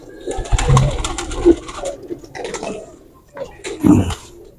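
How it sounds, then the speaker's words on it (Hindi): Hira Lal pigeons coo close by in soft, repeated throaty phrases with brief pauses between the calls. "ये हीरा लाल कबूतर है माशाल्लाह"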